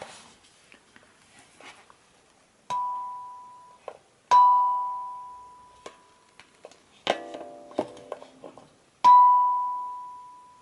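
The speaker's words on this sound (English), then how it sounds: "I'm going to turn this around so it's easier for me to tap, and I'm just going to give it one good tap" A kalimba's B5 metal tine rings out with a clear bell-like tone several times among soft handling clicks and taps, each note decaying slowly, close and alone.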